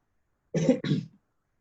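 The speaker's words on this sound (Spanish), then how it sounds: "Sin embargo, me está dando tos." Two quick, close coughs in succession, sharp and throaty, surrounded by silence.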